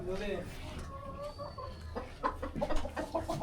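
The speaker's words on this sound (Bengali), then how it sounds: "বাহমা জাতের মুরগি খুব সুন্দর" Close-up Brahma chickens cluck and murmur in short, bubbling bursts, with a faint voice in the background.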